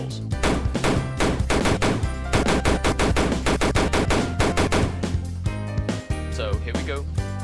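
Rapid, loud bursts of gunfire from a gun demo in a Unity 3D game, with sharp, evenly spaced shots fired in quick runs over a steady low droning tone, a brief break near the end, then more shots.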